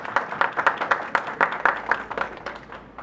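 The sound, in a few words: audience applause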